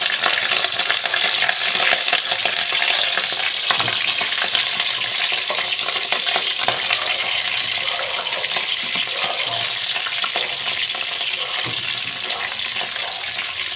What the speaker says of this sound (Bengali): আলু ফুলকপিগুলোকে আমি ভেজে নেব।